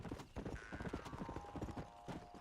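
A horse in Red Dead Redemption trots with quick, rhythmic hoof clip-clops on hard ground. A short tonal whinny-like call sounds partway through, all close and moderately loud.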